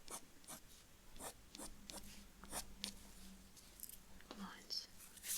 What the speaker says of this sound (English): I'm going to do the same thing with a fine pencil